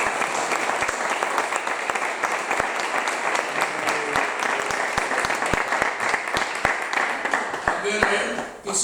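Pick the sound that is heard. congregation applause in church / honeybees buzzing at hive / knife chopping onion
congregation applause in church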